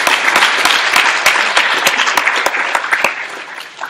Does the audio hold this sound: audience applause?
yes